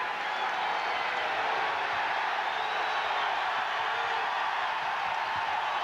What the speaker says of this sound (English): The crowd immediately goes to work.